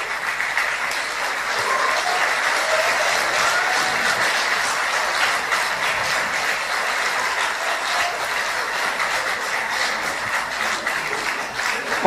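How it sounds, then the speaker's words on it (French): A debate audience on its feet applauds the debaters with sustained, dense clapping at a steady loudness throughout, no voices rising above it. "Levez-vous et applaudissez-les, s'il vous plaît"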